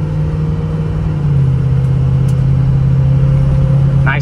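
Steady loud diesel engine drone from a 2006 Ford F-250 Lariat 4WD with a 6.0L Powerstroke, cruising with a continuous low rumble and slight rise in pitch as it pulls through gears, no talking.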